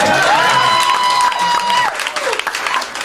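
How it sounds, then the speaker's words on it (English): Crowd cheering and applauding at a live comedy show, a loud wash of clapping and whoops that tapers off near the end, with a sustained tone riding over the top early on. "Crowd goes crazy."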